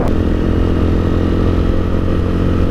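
A Hawk 250 motorcycle engine running steadily, a close, loud, even mid-pitched drone with a constant rhythmic pulse and no talk.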